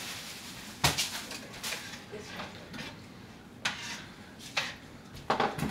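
Biscuit dough pieces set down on a metal cookie sheet, giving a few faint scattered clanks and taps spread over several seconds in a quiet room.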